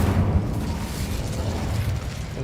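Incendio fire spell cast in Hogwarts Legacy, a loud sustained rumbling whoosh of flame with a deep low-end roar that holds steady throughout.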